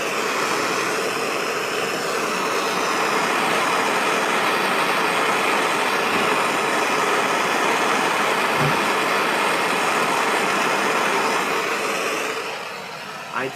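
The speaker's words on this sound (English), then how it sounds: "all you gotta do is torch it for a while" A propane torch heats a rusted part on a 6.4L Powerstroke diesel truck. Its loud, steady roaring hiss runs unbroken for about twelve seconds, then eases off at the end.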